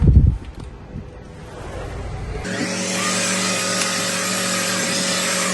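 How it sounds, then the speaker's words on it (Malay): After a few soft bumps, a vacuum cleaner switches on and runs with a loud, steady whining roar until the end. "Wah, mudahnya menggunakan alat pembersih vakum ini."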